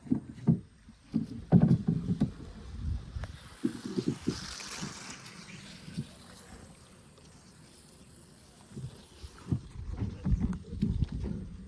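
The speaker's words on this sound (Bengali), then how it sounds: "এখন দাদা নৌকা চালাচ্ছে" Irregular knocks and splashes of oars working a wooden boat, in uneven strokes with quiet pauses, close by.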